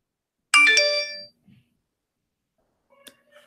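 A mobile phone ringtone plays one short melodic burst of bright tones, then cuts off, followed by a few faint clicks and a soft chime in an otherwise quiet room.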